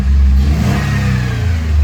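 A Jeep Liberty engine, freshly repaired after a faulty MAP sensor, revs with a steady, loud mid-range roar that holds throughout, close to the listener with no voices.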